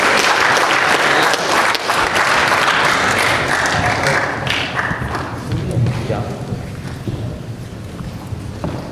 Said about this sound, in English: let's all give Julia and Christy a big round of applause